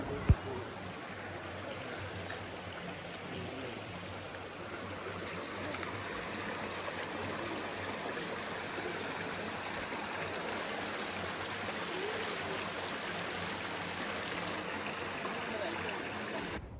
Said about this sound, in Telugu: చిన్న చిన్న వాటర్ ఫాల్స్లో నుంచి వాటర్ అంతా ఇక్కడ ఇలా పారుతూ ఉందన్నమాట